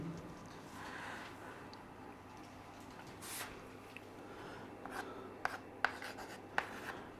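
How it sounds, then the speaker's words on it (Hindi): Pen writing a definition by hand on paper during a chemistry lesson, a faint continuous scratching with a few short tapping strokes near the end, no talking. "तो डेफिनेशन लिखते हैं"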